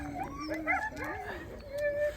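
Sled dogs in Hammerfest, Norway give rising whimpers and drawn-out howl-like cries, overlapping yips from a few dogs close by, with a person speaking underneath.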